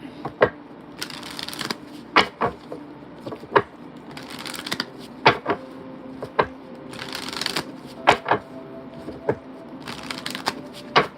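A deck of oracle cards is shuffled repeatedly, sharp riffling snaps and softer slides recurring every second or so at close range, with no talk over them.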